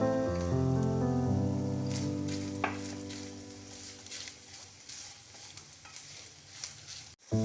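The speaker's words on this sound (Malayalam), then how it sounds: "നമ്മുടെ തേങ്ങ ഫ്രൈ ആയി തുടങ്ങിയിട്ടുണ്ട്" Grated coconut with cinnamon and pepper sizzles steadily in a pan, with a loud, continuous frying hiss and scraping stirs that gradually ease. A sharp knock sounds near the end.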